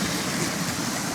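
A river cascade rushes in a steady, dense wash of falling water, close and continuous with no pauses and no voices.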